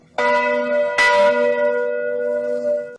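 A single bell strikes once and rings out with a long, clear sustained tone that slowly fades, alone with no voices.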